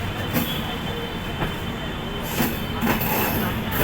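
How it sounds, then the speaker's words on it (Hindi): A train rumbles into platform 1 at Varanasi station, giving a steady loud roar with faint wheel squeals and clicks rising toward the end. "train is entering platform number 1"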